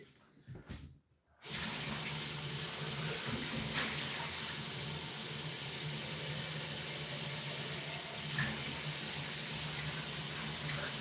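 Water running steadily into a jar filled halfway, a continuous close rushing pour that starts after a short moment of handling noise.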